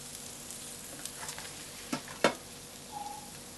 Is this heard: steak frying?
yes